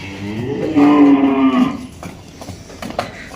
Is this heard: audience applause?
no